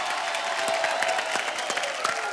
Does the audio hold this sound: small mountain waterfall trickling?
no